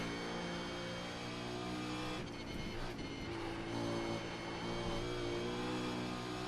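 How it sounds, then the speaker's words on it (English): A V8 Supercar engine in the iRacing game at Bathurst drones steadily at high revs, its pitch dipping briefly as it eases off and then building again. "use that big fat V8. It can lug a little bit and still give you a good torque."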